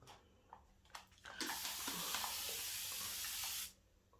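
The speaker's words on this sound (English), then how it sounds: "once I'm done spraying this, because honey, this makes all of the noise" A spray bottle mists hair product on wash day, a few short quiet puffs and then one long, loud continuous hiss lasting about two seconds before it cuts off sharply.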